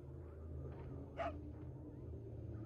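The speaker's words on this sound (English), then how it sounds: "It's a wolf rather than a dog" A wolf barks once, briefly, in the PlayStation 2 game Resident Evil 4, a short sharp cry rising over a steady low game soundtrack.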